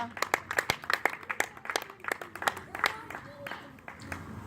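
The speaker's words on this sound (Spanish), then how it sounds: "Dale las palmas al Señor por esta palabra hermosa." A church congregation claps for the Lord after a sermon: crisp, fairly close handclaps, a ragged run of individual slaps by several people that thins out toward the end.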